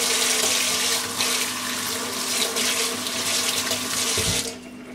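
Tap water pours steadily into a sink while a makeup brush is rinsed, a close, continuous splashing rush that briefly shifts in tone before cutting off near the end.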